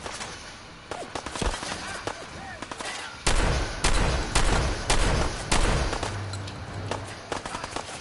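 Combat shotgun blasts in a video game, a rapid series of loud sharp shots that grows denser and heavier partway through, with faint talk in the background.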